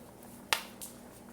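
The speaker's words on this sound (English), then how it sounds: "And I can hear the oil popping." Hot oil pops in a lidded pan of potatoes during stir-fry cooking, a single sharp crackle followed by a fainter second pop over a quiet steady hum.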